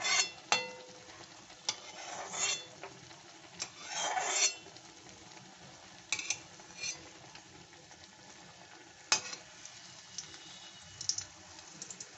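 Stuffed pickled chili chops fry in hot oil with a steady sizzle, broken by sharp scraping and rasping bursts as they are turned, with a denser flurry near the start and quieter crackling afterward.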